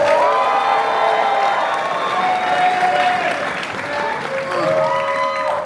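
A convention crowd at Midsummer Scream, a horror and Halloween fan event, applauds and cheers loudly, with whoops and shouting voices over continuous clapping throughout.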